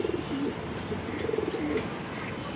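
Pigeons cooing softly at a pigeon sale, low repeated coos over a steady background hum, with no one talking.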